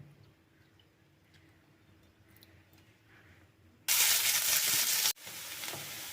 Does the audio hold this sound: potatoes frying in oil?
yes